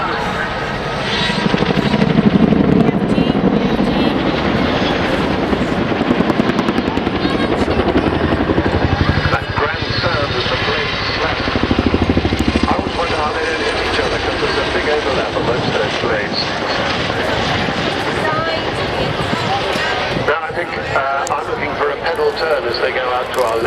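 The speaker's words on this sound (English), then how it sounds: "So here is the display of the Chinook." A Chinook helicopter flying a display at the Cosford 2015 airshow, its heavy rotor thump and engine roar sustained and loud throughout, with a commentator talking over it.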